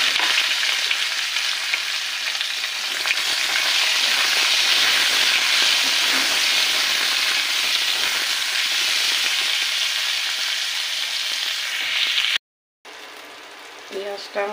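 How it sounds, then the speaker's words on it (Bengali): Onions frying in a pan with a loud, steady sizzle and occasional stirring, continuous for about twelve seconds before a brief cut, then quieter clatter. "নিয়ে এবার প্রথমে পেঁয়াজগুলোকে দিয়ে ভাজা করব।"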